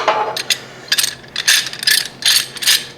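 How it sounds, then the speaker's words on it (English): A steel T-clamp being unwound during a wheel-building welding job gives off a loud, close ratcheting clatter. It comes in repeated bursts of rapid clicks separated by short pauses, with no talking. "Take forever to unwind the T-clamp."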